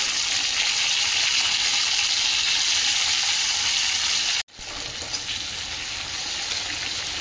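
Tomato hitting a hot pan of oil in a vegetarian dish with sugar and hing, giving a loud, steady, close sizzle that breaks for a moment midway and then resumes.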